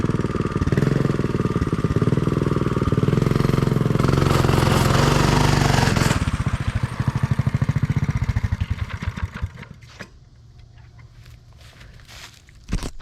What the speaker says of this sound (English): I'm gonna get my mini bike back across.